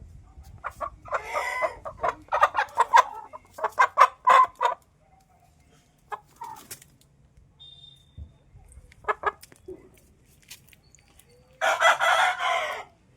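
Chickens cluck in bursts, several short runs of clucking and squawks with quiet gaps between, close by and fairly loud.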